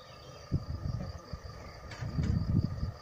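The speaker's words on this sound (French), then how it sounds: "Là, il y a des abeilles, plein" Honeybees crowding a beehive frame during a beekeeping lesson, a low steady buzzing hum with swelling bursts close by, a faint higher whine above, no voices.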